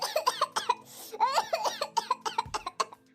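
A woman coughs in a rural home: a rapid series of harsh, hacking coughs in close fits, about a dozen sharp bursts with a brief pause between runs, loud and near.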